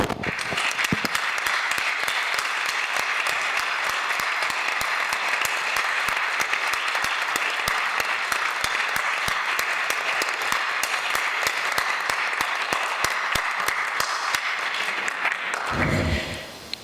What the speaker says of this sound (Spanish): para ellos les quiero pedir este fuerte aplauso